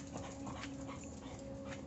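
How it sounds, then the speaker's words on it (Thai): A dog barks faintly and at a distance, a few scattered yaps half-buried in steady outdoor background noise. "หมาเห่า"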